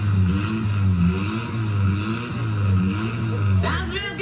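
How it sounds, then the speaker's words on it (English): A car engine idles with a steady, rhythmic low purr at a service station scene performed by animatronic characters at a pizza restaurant, pulsing evenly throughout, briefly joined near the end by a higher sound. "Just listen to that engine purr."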